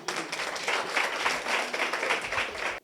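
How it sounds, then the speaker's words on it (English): Audience applause fills a school hall at a matric results celebration for Sijabulile Secondary School, Katlehong, Class of 2022: dense, steady clapping from many hands that holds for the whole stretch before tailing off. "please a round of applause for the entire side"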